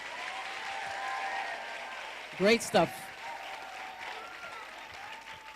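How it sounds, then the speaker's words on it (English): Audience applause at a live-streamed event, a steady wash of clapping from a crowd throughout, with a short spoken comment partway through. "Can we do better with an applause one more time?"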